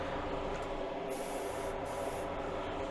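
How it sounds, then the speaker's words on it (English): A spray gun hisses continuously as paint is applied to a Buick car, a close, steady, airy spray with slight fluctuations and no voices. "we're gonna hit it and spray it again"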